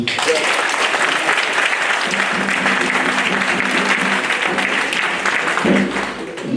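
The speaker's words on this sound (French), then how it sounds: "Ça s'applaudit" A crowd applauds loudly and steadily at a district electoral meeting, the dense clapping holding for several seconds before easing slightly near the end.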